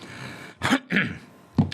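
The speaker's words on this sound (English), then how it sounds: "Let me clear my throat." A man clears his throat a few times in short, rough bursts, close by, with brief pauses between them.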